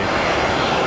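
Airliner jet engines at Tampa airport give off a loud, steady, close roar that fills the whole brief moment without a break.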